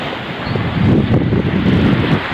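Wind and surf at an Arabian Sea beach make a loud, continuous roar with heavy wind buffeting on the microphone throughout.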